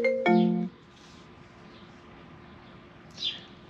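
A phone call rings through a Cardo Freecom 1+ intercom paired with a Harley-Davidson Boom Box GTS, a loud electronic tone burst at the start, followed by quiet hiss and a brief faint chirp near the end.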